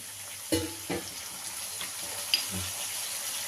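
Vegetables for sambar, including radish, carrot, bottle gourd and eggplant, fry quietly in a pot with faint sizzling and a few soft clinks of a spoon or lid, sparse and low with no one talking.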